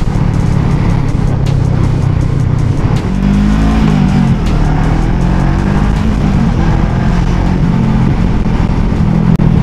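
A 2021 Yamaha Aerox scooter accelerating hard while being ridden, its engine droning loud and continuous with rising and falling pitch under heavy wind rush.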